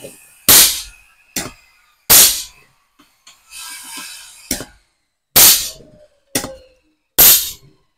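Repeated sharp airgun shots fired during a chronograph velocity test comparing short and long valve stems, each a loud crack with brief decay, about six shots spaced irregularly with quieter mechanical handling noises between.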